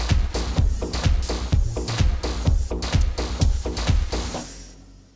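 A four-bar music loop built from two Maschine plugins running in Ableton Live, with punchy kicks on a steady beat under dense layered synths and percussion, loud and close, fading out over the last second.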